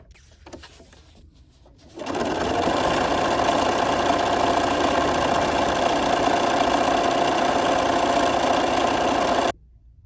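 A sewing machine stitches along a dog leash in one steady, loud, continuous run of about seven and a half seconds, starting abruptly after a quiet moment and stopping just as sharply.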